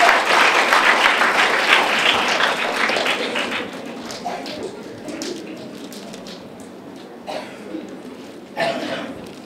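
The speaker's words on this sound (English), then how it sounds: "please give a round of applause for our judges" A crowd at a dikir barat performance applauds the judges, loud clapping at first that gradually thins and fades, with a few scattered claps near the end and some faint voices.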